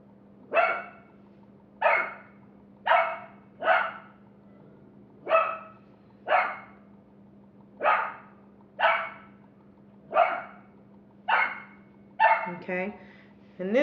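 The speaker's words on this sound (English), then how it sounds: "I'm going to go shut this puppy up" A puppy barks in a slow, regular series of about a dozen separate yaps, each a second or so apart, heard indoors at moderate distance, with a few quicker yips at the end.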